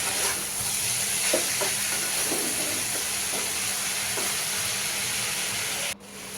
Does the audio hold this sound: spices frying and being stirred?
yes